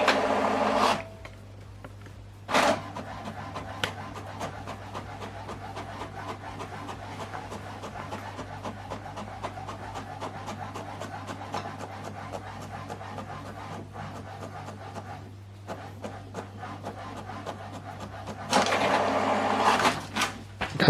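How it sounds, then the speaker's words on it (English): A computer printer runs through document pages with a steady mechanical whir and rapid fine ticking for about twenty seconds. Louder feed sounds come near the start and again near the end, and no one speaks. "So now printing this document page 2 and 3."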